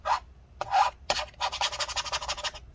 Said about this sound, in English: We're going to scrape it downwards here.